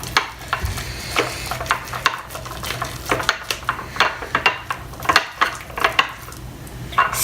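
Homemade slime with foam beads being stirred in a bowl, a steady run of wet, squelchy scraping strokes close up, with no talking.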